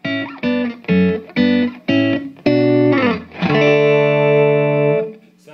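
Electric guitar plays several short, dry plucked notes, then a held chord rings out and fades, close and clear with no echo.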